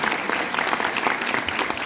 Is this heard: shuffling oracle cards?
no